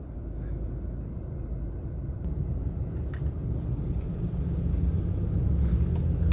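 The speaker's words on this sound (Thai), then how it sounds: "รถขยะวิ่งเข้าวิ่งออกนะครับ" Garbage trucks drive in and out along Phetkasem Road between Bang Khae and Nong Khaem, making a faint, low traffic rumble that slowly swells as a vehicle draws closer.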